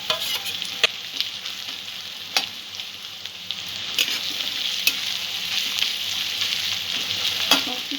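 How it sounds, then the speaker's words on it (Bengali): Onion, garlic, ginger and green chilli frying in a pan for veg momo filling, a steady close sizzle with scattered sharp scrapes and taps as the spatula stirs, no talking. "পেঁয়াজ, রসুন, আদা এগুলো ভাজা ভাজা হয়ে গেছে।"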